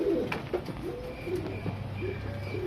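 Male surmi pigeon cooing close by, a low throaty coo repeated in soft rolling phrases over a quiet room background, with no talking.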